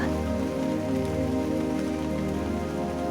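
Steady rain falls on a surface in a dense, continuous patter, close and even, with no voices.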